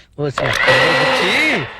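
A kitchen mixer grinder whirs steadily and loudly through most of the moment, with voices speaking over its running drone.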